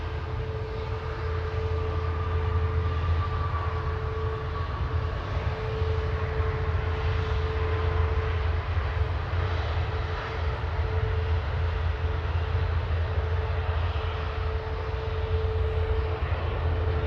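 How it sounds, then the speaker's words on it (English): A Ryanair Boeing 737 MAX 8 operated by Malta Air departs Manchester Airport for Brussels Charleroi, its engines giving a steady, loud, broadband jet roar with a constant drone that holds for the whole stretch, with no one speaking. "Ryanair operated by Malta Air 3222 to Brussels Charleroi, going now 9H VUB and MAX 8."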